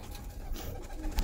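A breeding pair of top-quality pigeons, one male and one female, coo briefly and faintly at close range, the soft calls set against low background noise without speech.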